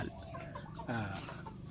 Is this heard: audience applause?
no